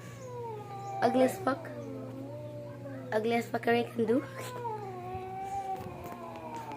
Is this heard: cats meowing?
yes